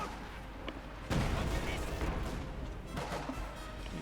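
Artillery bombardment by SS units in the Company of Heroes 2 strategy game, a burst of heavy booming impacts that hits loudly about a second in and rumbles on, with a commentator's voice running underneath.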